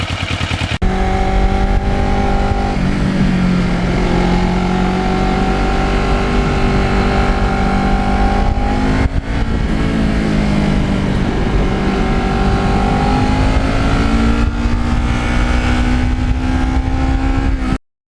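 A twelve-year-old Kawasaki Ninja sport motorcycle on Michelin tires, ridden hard with a steady loud engine drone that rises and falls through repeated throttle runs and gear changes, close and continuous with no voices.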